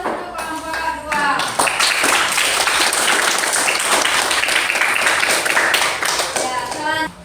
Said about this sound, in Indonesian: Aplaus, kita beri aplaus untuk kelompok 2.